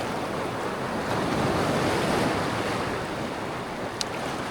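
Sea waves break and wash steadily on a cold winter shore during sea trout fishing, a loud continuous surf roar with wind buffeting the microphone and no talk.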